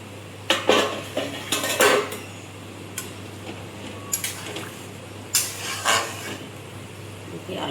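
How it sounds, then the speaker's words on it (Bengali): A metal lid lifted from a pot of simmering potatoes in a rohu fish curry, sharp clanks and scrapes of pot, lid and utensils in clustered bursts over a steady low hum. "এবার আমি এই ঢাকাটা খুলে দেখি"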